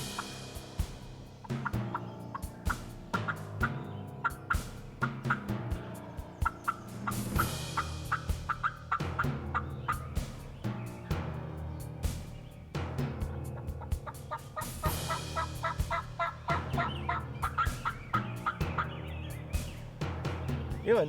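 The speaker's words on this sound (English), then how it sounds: "There was hens yelping in a lot of different trees" Wild turkey hens yelp and call from several trees during a spring hunt, rhythmic series of raspy notes repeating steadily throughout, fairly close and loud with no talk over them.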